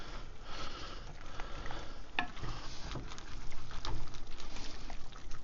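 A spoon scrapes and stirs along the bottom of a pot of simmering Japanese curry, giving a continuous soft sizzling scrape with one sharper clink partway through, close by and without talk.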